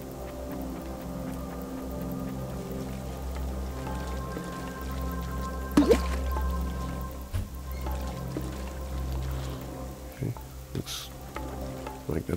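Water poured onto a tree in the Nintendo Switch video game Pan-Pan: a steady splashing, rain-like patter with a few louder drips and splashes, running continuously throughout.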